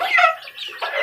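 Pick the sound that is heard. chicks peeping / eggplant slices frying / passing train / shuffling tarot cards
chicks peeping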